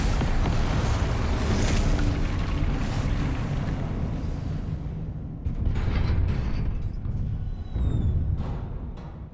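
Confringo blasting spell in Hogwarts Legacy, a series of rumbling explosive bursts with crackling debris, loud up front and swelling again in two later blasts.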